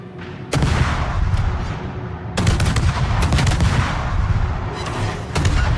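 Naval guns fire in the warship battle game World of Warships, with heavy booming salvos landing in several separate bursts and rumbling between shots.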